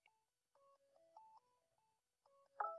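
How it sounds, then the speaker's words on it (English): Electronic phone ringtone or dialing tones from an incoming call, a series of short stepped beeps at modest level with a louder burst at the end, no talking. "why am I getting a phone call?"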